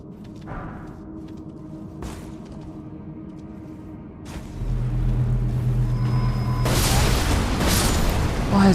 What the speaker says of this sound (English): Why is the explosion so large?